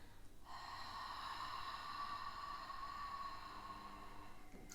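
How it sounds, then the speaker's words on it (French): Constricted-throat ujjayi pranayama exhale in a yoga breathing exercise, a steady hissing, oceanic rush of breath that holds evenly for about four seconds, close and alone. "Ujjayi nous permet aussi de ralentir, d'approfondir notre respiration."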